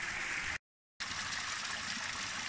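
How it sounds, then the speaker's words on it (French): Mountain waterfall water cascading downhill as a steady, dense rushing roar, briefly cut to silence before resuming, close and loud with no voices. "l'eau qui descend comme ça dans les cascades"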